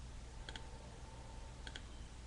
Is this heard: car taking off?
no